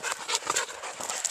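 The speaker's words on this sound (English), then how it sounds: "Oh, a bunch of dogs." A pack of dogs runs up a downhill hiking trail, giving a quick, close patter of paws mixed with panting, with no talking over it.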